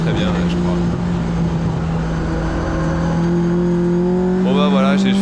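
McLaren GT engine accelerating in a racing video game, a continuous loud droning whine that rises in pitch toward the end, with a voice talking over it.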